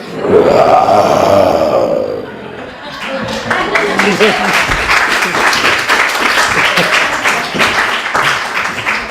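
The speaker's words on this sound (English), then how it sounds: "Roar to give yourselves applause." A poetry-event audience erupts in loud roaring and cheering mixed with sustained applause, following a brief voice at the start.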